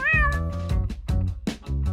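A cat gives a string of loud, close meows in quick succession, each one drawn out and wavering, with no talk over them.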